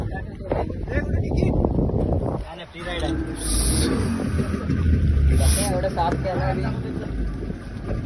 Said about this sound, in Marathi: आणि ही आपली बोट आहे.